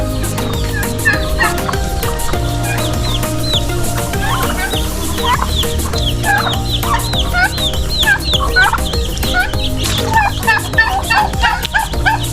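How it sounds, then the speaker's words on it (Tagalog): A flock of native chickens clucks busily and repeatedly in a backyard, with turkey gobbles mixed in, forming a lively, continuous barnyard chatter. "Mayroon po akong ilang pirasong manok na native."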